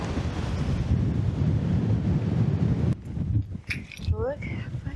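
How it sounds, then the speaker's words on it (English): Strong wind roars across the open dunes at Sleeping Bear Dunes, loud buffeting gusts that blast the microphone, then ease as a voice briefly speaks. "It's so windy up here."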